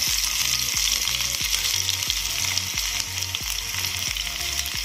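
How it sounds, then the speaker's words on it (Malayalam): Chopped shallots frying in hot oil with spluttered mustard seeds, for Malabar-style chicken curry, give a steady loud sizzle throughout, with regular rhythmic scraping or stirring strokes about twice a second close by. "കടുക് പൊട്ടി കഴിയുമ്പോൾ അതിലേക്ക് നമുക്ക് അരിഞ്ഞു വെച്ചിരിക്കുന്ന ചെറിയുള്ളി ചേർത്ത് കൊടുക്കാം"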